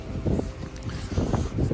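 Strong wind in a wild blizzard before winter buffets the microphone in low rumbling gusts, loud and uneven, surging several times over a couple of seconds with no talking.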